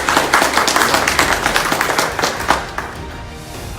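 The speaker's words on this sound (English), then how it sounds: "worth a round of applause" A crowd at a congressional campaign speech breaks into applause, loud and close with irregular individual claps blending into a dense patter that thins slightly toward the end.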